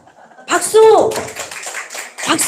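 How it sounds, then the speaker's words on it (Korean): Clapping at a church gathering, a short burst of hand claps mixed with a loud vocal cry and ongoing talk from a nearby speaker. "박수"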